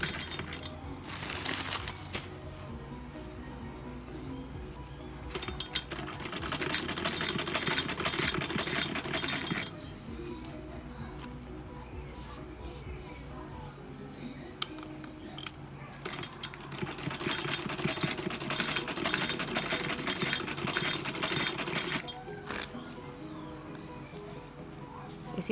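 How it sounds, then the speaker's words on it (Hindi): A sewing machine stitches along the side of a fabric doormat made from leftover suit or blouse cloth, its rattling runs coming in two long bursts separated by quieter pauses. "इसी तरह से इसके साइड से सिलाई करते हुए"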